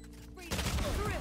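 Gunfire in the video game Valorant crackles out in a short loud burst of rapid shots, cutting in abruptly after a quieter moment.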